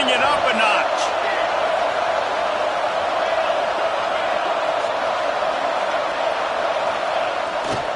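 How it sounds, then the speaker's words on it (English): Dense, continuous roar of a large crowd at a football stadium, swelling with a few sharp bursts near the start and end. Commentary voices run throughout. "this crowd is turning it up a notch"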